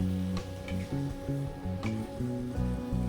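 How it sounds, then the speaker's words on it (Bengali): Fish and ivy gourd curry stirred and fried dry in oil in a pan, with a continuous sizzle and soft scraping of the spatula, under a steady low rhythmic mechanical hum. "ভালো করে শুকনো শুকনো করে নেড়ে একদম জলটা শুকিয়ে নেব, আর একদম ভাজা ভাজা মতো হয়ে যাবে।"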